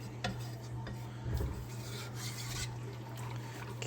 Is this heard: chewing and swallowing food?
no